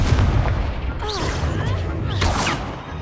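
Confringo fire spell explosion in the Hogwarts Legacy video game during a wizard duel, a loud booming blast with crackling whooshes and spell effects layered over a rumbling game background.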